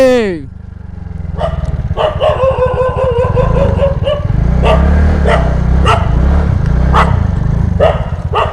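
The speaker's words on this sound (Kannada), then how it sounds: "ಏನ್ರಿ ಎಲ್ಲ ನಾಯಿ ಕಡೆಯವ್ರು ಇಟ್ಟಿದ್ದೀರಾ?" Several dogs bark loudly and repeatedly nearby in Mangalore, with a rooster crowing and a voice speaking over the racket.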